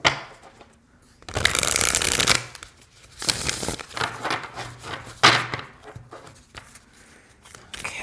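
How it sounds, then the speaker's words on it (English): Oracle cards are shuffled in several quick riffling bursts, a crisp papery flutter close by, separated by brief pauses with no talking. "It shuffles wonderfully. There's no cards sticking to any of the other cards."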